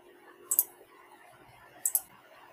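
Two crisp computer mouse clicks in database software, each a quick double tick, about a second and a half apart against a quiet background.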